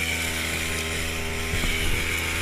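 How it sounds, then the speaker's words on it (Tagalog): A grass cutter engine drones steadily while a pineapple field with ripe fruit is cleared, a buzzing two-stroke whine with a few knocks and scrapes near the end and no speech. "Natamaan ang grass cutter po."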